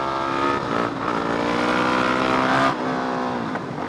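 A Honda GoldWing motorcycle engine idles and revs close by, with a loud, steady tone that rises and falls, then drops sharply near the end.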